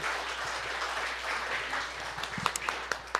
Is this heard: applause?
yes